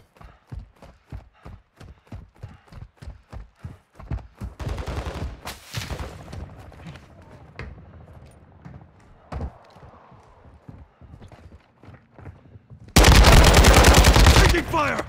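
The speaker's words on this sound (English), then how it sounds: "Taking fire!" Gunfire in Call of Duty: Modern Warfare II DMZ mode, a string of sharp close single shots in rhythmic succession, then scattered reports and a sudden loud sustained burst of automatic fire at the end.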